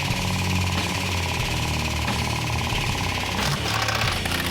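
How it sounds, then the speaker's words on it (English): Steady mechanical rumble and hum with a grinding, chattering texture in a workshop, as a hook pulls back the crumpled bumper of a 1988 Jeep Cherokee during collision repair; continuous and fairly loud with no voices. "So we'll use a hook and just pull it back."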